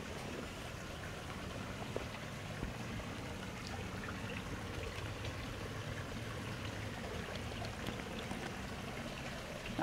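Water trickles and pours steadily into a garden pond built around a bubbling rock, a continuous soft splashing stream that stays even and moderately close throughout, with no talking.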